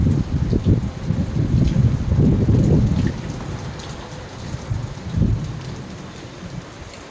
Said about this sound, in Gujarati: તો જોવા વરસાદ પડી રહ્યો